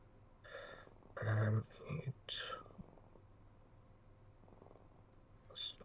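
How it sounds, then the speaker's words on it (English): A cat's low, continuous purr rumbles close to the microphone through a tabletop role-playing session, with soft voices talking over it. "I'm really hoping your purring isn't showing up on audio recording."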